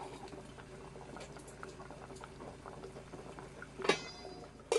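Sinigang soup with malunggay leaves boils gently in a pot, a quiet steady bubbling patter with a sharper clink or two of the pot near the end and no voices.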